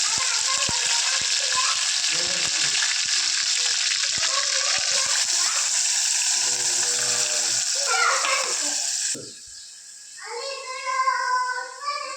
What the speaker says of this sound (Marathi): आता पहिला तेलामध्ये कढीपत्ता टाकला आणि नंतर मग जो मसाला केला बारीक तो टाकलेला आहे